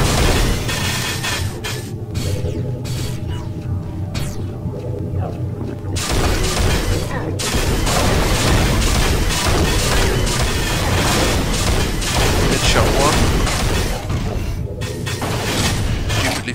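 Weapon fire and explosions from the video game Unreal blast nearly without pause, a dense, loud barrage of booms, crashes and shots. Brief gaps break it early on, and a voice may speak faintly underneath.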